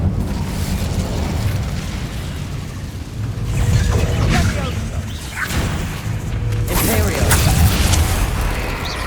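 In Hogwarts Legacy, a fire spell erupts in a continuous loud whooshing roar with crackling bursts and low booms, dense and up close, with a voice calling out over it.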